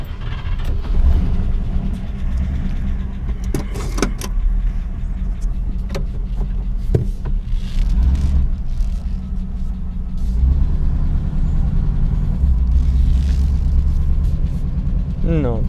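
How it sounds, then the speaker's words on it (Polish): A Cadillac 8 rolls in with a low, steady engine rumble and tyre noise, close and continuous, with occasional knocks and someone talking over it. "zobaczymy, czy Cadillac tu wjedzie"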